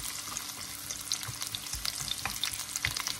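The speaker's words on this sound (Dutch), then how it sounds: "Dan gaan we de knoflook ui en de gember en de laurierblaadjes eerst kort bakken." Garlic, onion, ginger and bay leaves fry in a pan, giving a steady close sizzle with soft scrapes and clicks of stirring throughout and no talking.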